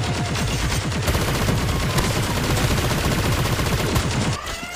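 Sustained rapid gunfire in a video game: a dense, loud burst of automatic shots rattling continuously at close range for several seconds before cutting off.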